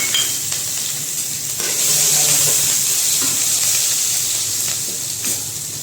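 Mustard seeds and asafoetida hit hot oil in a pan while cooking a spicy drumstick vegetable curry, setting off a bright, steady sizzle and crackle that swells and holds at close range, without speech.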